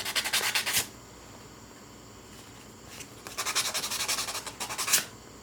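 Sandpaper rubbed by hand on a Z900 motorcycle kickstand foot to roughen it for paint, giving rapid rhythmic scratchy strokes in two bursts separated by a quiet pause, close and clear.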